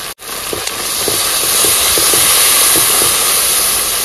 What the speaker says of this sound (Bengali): জল ফুটে গেছে, মাছ দিয়ে দিলাম